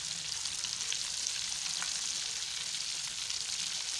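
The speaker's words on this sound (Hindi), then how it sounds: "सरसों के तेल में मैंने ये फ्राई कर रही हूँ इसको मैं डीप फ्राई कर रही हूँ" Beef shami kababs deep fry in mustard oil, producing a steady, even bubbling sizzle at moderate-to-low volume with no talk.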